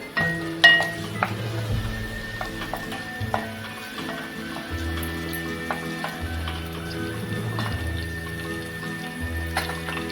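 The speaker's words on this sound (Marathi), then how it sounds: "आपलं तेल आता गरम झालेलं आहे आता आपण याच्यामध्ये टाकणार आहोत लसूण" Chopped garlic sautéing in plenty of hot oil for a dried-shrimp fry, a steady close sizzle with intermittent stirring and utensil scrapes throughout.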